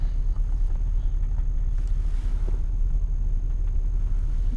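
A truck engine idles right beside the listener in a low, steady rumble. The rumble is continuous and close, with faint background noise and no talking.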